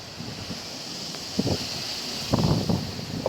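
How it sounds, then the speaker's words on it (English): Strong gusting wind outdoors during a stormy skateboarding session, buffeting the microphone with a constant rushing roar and a few heavier low thumps as gusts hit. "just because it's so windy"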